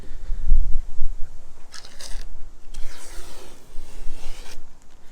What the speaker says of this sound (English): I don't even need to tear this tape off, but I will, just to show you the difference